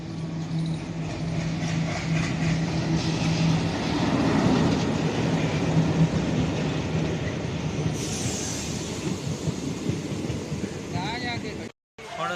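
Steady rumble and rattle of a moving passenger train heard from inside a carriage, with wind noise and passengers talking under it, continuous and loud for the whole stretch.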